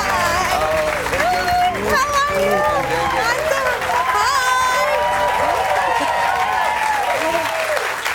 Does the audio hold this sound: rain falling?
no